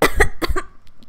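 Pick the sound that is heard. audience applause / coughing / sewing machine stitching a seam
coughing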